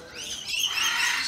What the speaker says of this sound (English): Hello, Shaky bird.